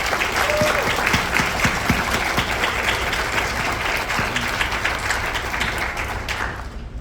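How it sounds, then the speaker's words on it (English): Audience applause at an NHS induction ceremony, a dense, steady wash of many hands clapping together that fills the room and holds for several seconds before thinning at the end. "Please join me in thanking them with a round of applause."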